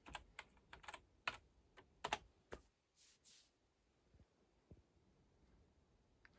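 Password typed on the keyboard of a 2013 Mac Pro setup, a quick run of close, crisp key taps with short pauses and a few softer clicks afterward in a quiet room.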